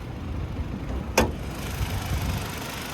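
A 2025 Hyundai Sonata N Line with its 2.5-liter turbocharged four-cylinder idles with a steady, low, quiet rumble, broken once by a single sharp click.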